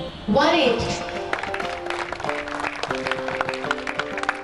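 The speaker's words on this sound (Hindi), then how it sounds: "जोरदार तालियां" Audience applause for a finalist at a singing competition, a loud burst of clapping that quickly settles into a steady crackle beneath sustained musical tones and voices.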